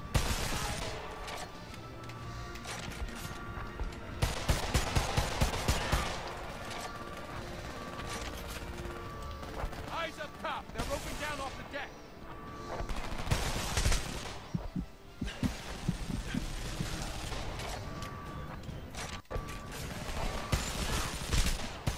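A machine gun in the Homefront shooter fires in repeated long rapid bursts over steady game noise. Clanks and mechanical clatter fall between the volleys, and a sharp crack cuts through near the end.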